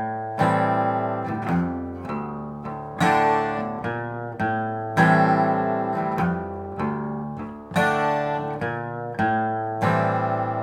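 A guitar in double drop D tuning plays a repeating riff of plucked notes, some bent upward in pitch on the low string, with steady rhythmic attacks and no talking over it.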